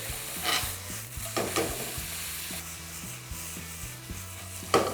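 Meat for bun cha fries over high heat, giving a close, soft sizzle with repeated stirring and scraping strokes in the pan.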